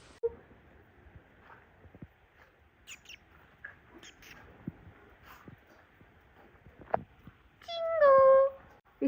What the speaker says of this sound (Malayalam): ഒരു പൂച്ച വന്നിട്ടുണ്ടായിന്.